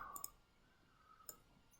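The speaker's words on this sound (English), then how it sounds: "I'm clicking too much." Faint, dry computer mouse clicks, a quick double click followed a second later by a single click, in a quiet room.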